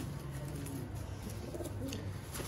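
Baby parwazi pigeons coo softly in low, throaty murmurs against a constant background hum, with faint chirps at the edges and no speech.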